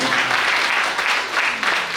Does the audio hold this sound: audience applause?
yes